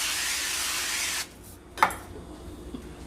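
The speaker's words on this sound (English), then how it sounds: "For good measure, I'm going to spray my pan with the avocado oil spray." Avocado oil cooking spray hisses steadily onto a pan on low heat for about a second, then cuts off, followed by a light clack and quiet kitchen background.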